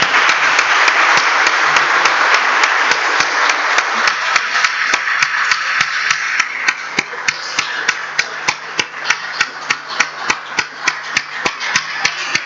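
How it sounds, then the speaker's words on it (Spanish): Church congregation applauding, first a dense, loud burst of many hands that gradually thins into a slower, steady rhythm of fewer distinct claps toward the end. "Vamos a darles un aplauso a estos varones."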